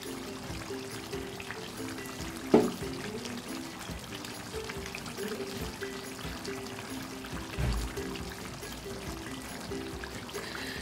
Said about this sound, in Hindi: मैं इसमें लेमन जूस डाल रही हूँ।